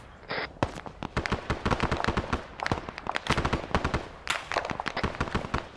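Intense firefight in Arma 3: SOG Prairie Fire, dense bursts of rifle and machine-gun fire cracking rapidly, some shots near and sharp, others layered behind, sustained with no pauses.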